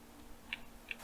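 Sparse keystrokes on a computer keyboard during a network penetration-testing session, a few quiet separated clicks ending in one sharper, louder tap, with no talking.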